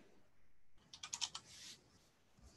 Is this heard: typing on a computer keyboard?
yes